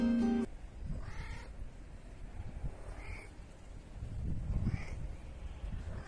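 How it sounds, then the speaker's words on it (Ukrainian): A few scattered cat meows, faint to moderate, spaced apart over a low background rumble, with no talking. "А ви тільки послухайте, як вони вміють розмовляти по-своєму, по-котячому."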